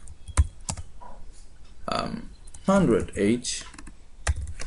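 Typing on a computer keyboard while writing assembly code for emu8086, with scattered key clicks running under a voice speaking close to the microphone.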